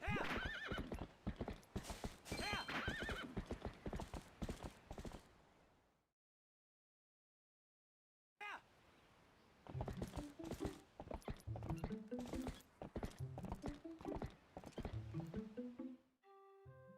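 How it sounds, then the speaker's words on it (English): Rapid hoofbeats of a galloping horse with whinnies in Zelda: Twilight Princess, loud and rhythmic, broken by a brief silence before the galloping resumes. "It feels weird riding the freaking horse."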